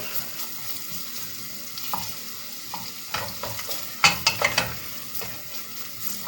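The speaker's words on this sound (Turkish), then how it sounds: "Soğanımla kıymam da kavruldu." Onions and minced meat sautéing in a pan, a soft continuous sizzle broken by several sharp spoon scrapes and clatters against the pan near the end.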